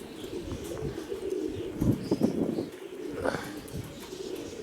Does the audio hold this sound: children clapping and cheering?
no